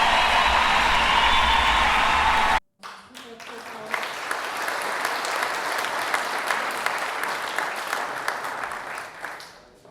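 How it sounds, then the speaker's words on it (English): After an abrupt cut, a steady wash of clapping from a group follows, moderately loud and continuous, then tapering near the end. "let's give it a hand clap for that one"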